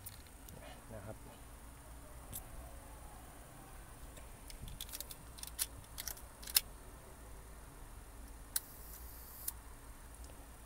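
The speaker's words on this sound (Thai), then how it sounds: "มาดูการทำงานของสปีดชัตเตอร์นะครับเราจะดูที่สปีดชัตเตอร์1กับ F22 นะครับ" Konica IIIA vintage rangefinder camera with Hexanon 48mm f/2.0 lens, its leaf shutter firing at slow speeds with small distinct clicks and ticks spaced apart, close up, while someone talks.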